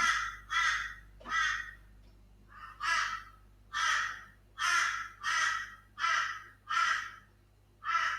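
Crows caw in a steady series of about ten loud, harsh calls, each roughly half a second long, spaced fairly evenly against a quiet outdoor background with a low hum.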